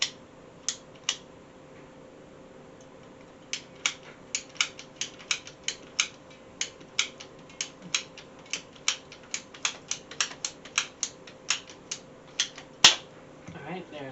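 PVC pipe is cut to length with a ratcheting pipe cutter, giving a sparse series of sharp, close clicks that speed into a quicker irregular run before a final snap.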